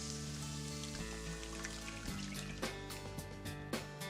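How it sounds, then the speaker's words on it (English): Beaten egg pours into a hot pan over softened onions, a steady liquid sizzle and patter with a few sharper crackles and pops toward the end, close and alone. "I'll spread them out evenly on the bottom of my pan and then pour the egg over them."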